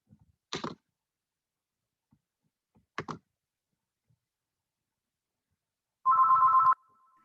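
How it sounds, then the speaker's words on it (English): A landline telephone gives one short electronic ring near the end, picked up during an online meeting. Two faint knocks or thumps come earlier, in otherwise near silence. "Your landline's ringing, Adam."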